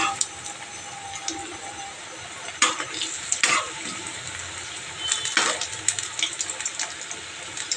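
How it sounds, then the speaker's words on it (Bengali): Khesari lentil fritters mixed with elephant foot yam, nigella and white sesame fry in hot oil, a steady close sizzle broken by a few sharp spatters and stirring scrapes, no voices. "যে বড়াগুলো ভাজছি।"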